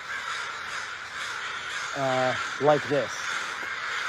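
A few loud crow caws, a short burst then two more, from a large flock perched on rooftops in Washington, heard over a steady background hiss while someone speaks.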